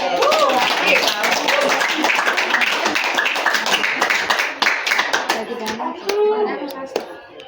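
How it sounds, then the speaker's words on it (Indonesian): A class of students claps together in a dense, lively burst of applause that gradually thins toward the end, with voices mixed in. "Beri tepuk tangan."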